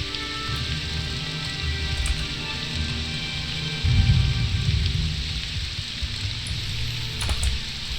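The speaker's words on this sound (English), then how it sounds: "Rain, rain. So nice." Steady rainfall in the video game Morrowind, a constant dense hiss with a low rumbling surge in the middle, heard without any talking.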